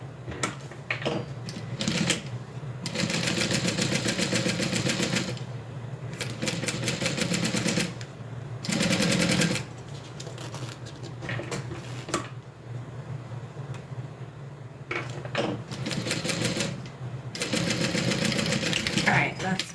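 Sewing machine stitching a zip-around wallet in quick, buzzing bursts of a few seconds each, separated by short pauses, with a faint voice speaking between runs.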